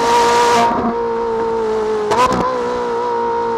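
Ferrari 458 Italia V8, capable of 9000 rpm, heard close and loud: a high engine note that drops sharply, then a quick burst of rev blips on downshifts before settling into a steady drone.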